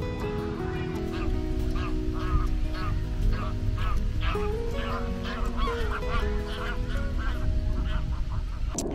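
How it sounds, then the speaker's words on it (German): A flock of ducks on a lake honks and quacks repeatedly in overlapping calls, fairly close, over a steady background hum. "aber dafür jede Menge Enten"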